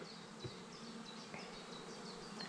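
Steady buzzing of many honeybees at a hive entrance close by, with individual bees droning past now and then over the constant hum.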